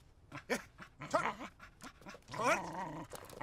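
A dog growls and snarls while biting and tugging, a close, rough series of throaty growls with whimpering pitch rises, loud and uninterrupted by speech.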